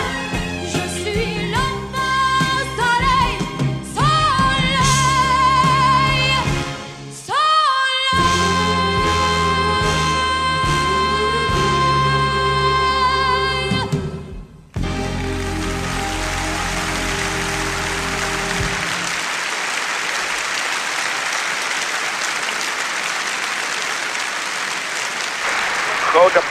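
Audience applause breaks out after a song at the 1979 Eurovision Song Contest in Jerusalem, starting beneath the closing music and carrying on as a steady, dense wash of clapping for several seconds.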